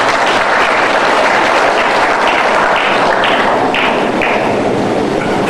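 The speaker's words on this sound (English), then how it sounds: "I think they deserve a round of applause" Studio audience on a live morning show applauds loudly, a thick, sustained roar of clapping that stays strong from start to finish, with a few heavier thumps mixed in.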